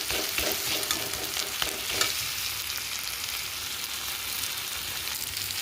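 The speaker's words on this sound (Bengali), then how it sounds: "ভালো করে মশলাটা কষিয়ে নেব" Spiced paste of turmeric, ground dried chilli, ginger and garlic sautéed in a pan for a lote fish and eggplant curry: a steady close hiss and sizzle with scraping stirs early on, then a softer continuous fry.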